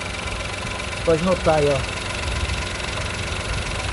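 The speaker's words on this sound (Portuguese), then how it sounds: "do motorista ele não passa, mas aqui pro motor ele vibra assim" A three-cylinder car engine idles with a steady low rumble and vibration, as found in models like the Onix, Ford Ka, Sandero or HB20, heard close up while someone speaks briefly over it.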